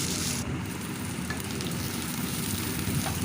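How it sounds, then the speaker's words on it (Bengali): Onion, garlic and green chili fry in oil in a pan as tempering for greens, a continuous moderate sizzle with faint occasional ticks and no voices. "শাক ভাজার আগে যদি পেঁয়াজ, রসুন, লঙ্কাটা ভেজে নিই"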